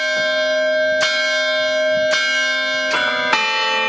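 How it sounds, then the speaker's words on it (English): Resonant carillon bells, played manually, strike one after another, each ringing tone sustaining and overlapping with the next in a slow melodic sequence. "the bells are played manually from here by the carillonneur"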